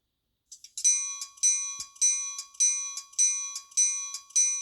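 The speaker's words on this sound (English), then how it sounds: "Bell." A ScaleTrains N scale EMD GP30 locomotive's sound unit rings its bell alone, a steady run of bright metallic clangs about twice per second, close and clear, with a thin constant tone underneath.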